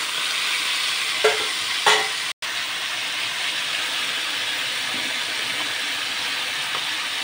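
Fenugreek seeds sizzle in hot oil as a tempering for a home-cooked Bengali dish, giving a steady, loud frying hiss throughout with a couple of faint clinks and a brief dropout.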